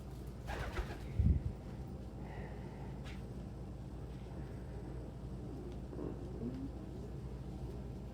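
A pet bird, pigeon or dove-like, gives soft, faint coos indoors in a quiet room, with a brief thump early on and low background hum.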